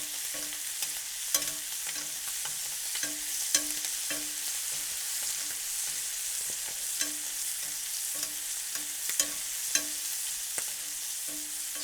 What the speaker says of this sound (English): We're going to baste our steak.